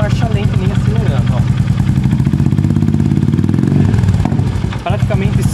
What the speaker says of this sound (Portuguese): o som que vocês vão escutar é do escapamento na Meteor